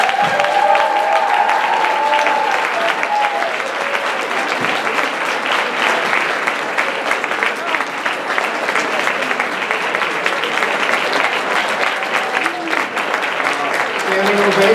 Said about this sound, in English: Standing ovation, well deserved.